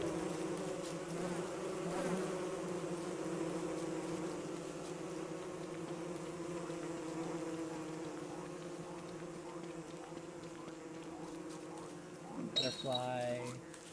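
Continuous droning of bees near beehives in a bee biome of Don't Starve Together, a steady layered hum at moderate level, with a short rising chirp-like game sound near the end.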